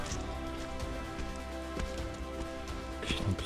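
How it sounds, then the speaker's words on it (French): Steady rain falls around a construction-site area on Réunion Island around Halloween, a continuous soft patter filling the whole stretch at moderate level with a few brief knocks and rustles near the end. "il pleut, ça s'arrête, il pleut, ça s'arrête"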